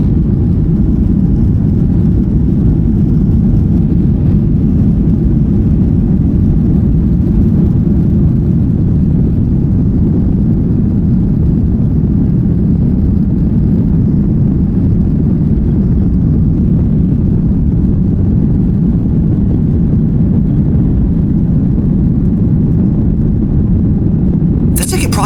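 Ryanair airliner on the runway heard from inside the cabin, a loud steady low rumble of engines and rolling that stays constant throughout the takeoff run.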